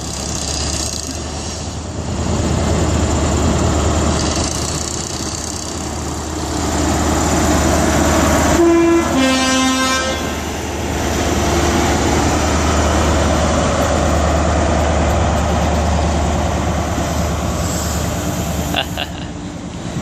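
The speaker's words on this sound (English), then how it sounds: "Lovely two-tone by the driver." A train at Exeter St David's station sounds its two-tone horn, two short tonal blasts in quick succession just before the middle, over a steady low engine idle and station background noise.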